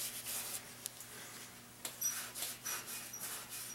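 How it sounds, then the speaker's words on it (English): A Scotch-Brite pad scrubs a part of an early-90s 35 hp outboard motor, giving soft repeated rubbing strokes with a few sharper scrapes, close and fairly quiet, with no talking. "I'm just using a Scotch-Brite here"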